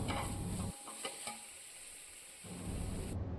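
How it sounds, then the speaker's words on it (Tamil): Fish biryani masala being stirred in a pot over a medium flame, a soft scraping and sizzling texture that drops away briefly mid-clip before returning steadily. "இதை வந்து கைவிடாமல் இதே போல் மிக்ஸ் பண்ணிக்கிட்டே இருக்கணும்"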